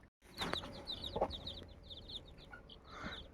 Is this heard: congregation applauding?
no